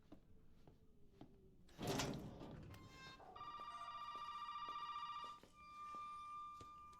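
Inside a video game, a house telephone rings with a bright electronic trill lasting about two seconds. A thump and a short rustling burst come before it, and a fainter tone follows, all quiet.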